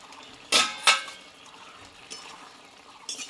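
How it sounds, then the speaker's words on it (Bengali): A metal lid is lifted off a cooking pot of soft-cooked potatoes after 5 to 6 minutes covered: two sharp, close clanks in quick succession, then fainter clinks. "ঢাকনা তুলে এবার নেবো আমি"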